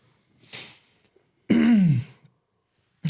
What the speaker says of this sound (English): I couldn't time that cough any